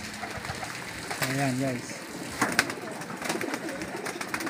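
Pigeons in a loft give a soft, close cooing call lasting under a second amid a steady background hum, while someone talks throughout.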